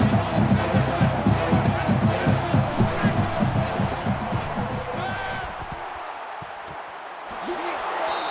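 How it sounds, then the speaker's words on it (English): Dense stadium crowd roar in the video game NCAA Football 20, Auburn at Florida, steady and loud with rhythmic chanting and stomping pulses early, thinning slightly toward the end. "This crowd comes to play themselves."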